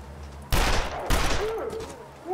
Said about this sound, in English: shoot to kill at this point, because that guy was still coming after one shot